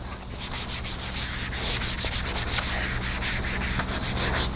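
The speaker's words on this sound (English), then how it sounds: "I'm just going to keep wiping it down with a damp sponge and a lot of soap." A damp sponge loaded with saddle soap rubs back and forth over a leather saddle in steady, close scrubbing strokes, a soft rhythmic swishing with no talking.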